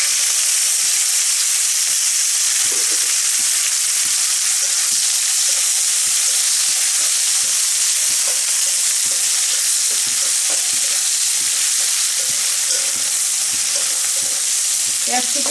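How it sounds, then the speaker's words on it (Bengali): Chopped onions frying in a pan for a Bengali prawn malai curry, after cardamom, cinnamon and bay leaves went into the oil; a steady, close sizzle runs throughout with small crackles and occasional stirring clinks. "পেঁয়াজ কুচিগুলো আমি হালকা ভেজে নেব।"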